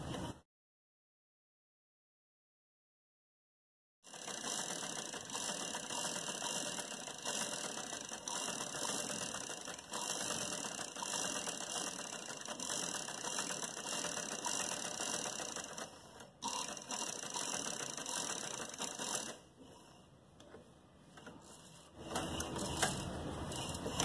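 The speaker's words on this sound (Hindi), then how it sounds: "इस तरीके से हम थोड़े थोड़े फासले से इसमें सिलाइयाँ कर लेते हैं।" A sewing machine runs long, straight stitches along a designer sleeve, making a steady, close mechanical whirring clatter that continues for about twenty seconds after a short silent start.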